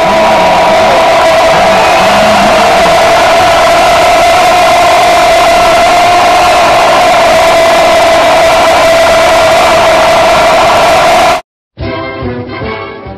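A roaring stadium crowd of about 54,000, a dense, very loud wall of noise sustained for over ten seconds, then a sudden cut and a brief different burst at the end.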